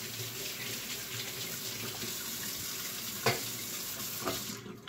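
Water streams steadily from a bathroom tap into a sink for rinsing after brushing teeth, a constant close splashing hiss with a couple of brief louder splashes near the end.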